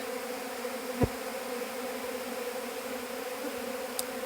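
Low, steady honeybee buzzing drones on throughout at an apiary, with a brief click near the start and a faint tick near the end.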